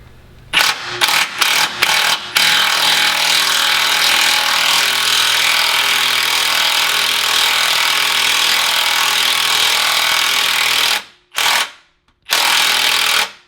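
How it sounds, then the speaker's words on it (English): Steady, loud grinding drone of a tool cutting threads for a bolt on a 2019 Jeep Wrangler JLUR while fitting rock sliders, running continuously after a few short starts, then cutting out twice near the end. "you want to try and get that bolt to be as straight as possible when you're cutting the threads"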